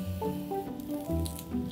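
A hot oil tempering of mustard seeds, urad dal, red chilli, hing and curry leaves sizzles and squishes in a pan, with close, uneven bursts of hissing and popping and no talk.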